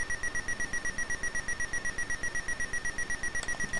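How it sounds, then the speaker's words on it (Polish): Simple speaker beeping in a retro ZX Spectrum-style shooter game, a rapid, evenly pulsed electronic tone repeating about six times per second, steady and thin throughout. "Dźwięk, słyszymy, jest bardzo prosty. Pipczenia z głośnika. Coś w stylu ZX Spectrum, Timexa."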